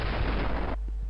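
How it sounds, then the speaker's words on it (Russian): A single loud gunshot from a player's weapon in CS:GO on the Inferno map, a dense blast cut off abruptly partway through, followed by a faint low tail. "Затем делаю выстрел."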